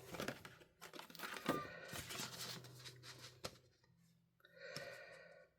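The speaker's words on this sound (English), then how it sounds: "This panel here, we're going to put through the same embossing folder." A paper cardmaking panel goes through an embossing folder, with close crinkling, crumpling and tearing-like rustles, a few sharp clicks and brief scraping, moderately loud and with no talk.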